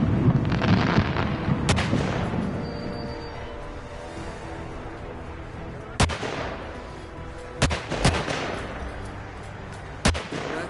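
Sharp sniper rifle gunshots ring out in the video game Hitman 2, spaced irregularly over a low background rumble, with several loud cracks coming in succession after a quieter stretch.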